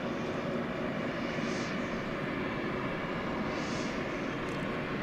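Boeing 757 airliner at DFW Airport at night, a broad steady engine roar filling the whole stretch, heard from the airfield without any talk.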